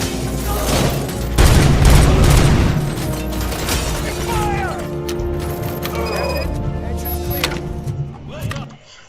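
Gunfire in a video game: heavy shots and booms crowd the opening seconds, then lighter clanks and mechanical noises continue at a lower level as the fire tapers off.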